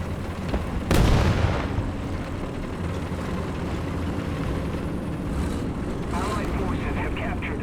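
An enemy Panzer IV tank fires in the War Thunder game: a single loud cannon blast with a rumbling tail, followed by steady engine drone and faint distant booms, with talking over it.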